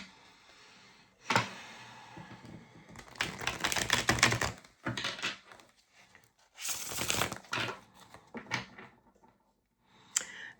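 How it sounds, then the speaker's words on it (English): Tarot cards shuffled in repeated bursts of riffling and crisp slapping, separated by short pauses, close and fairly loud with no talk. "let me get a few shuffles in"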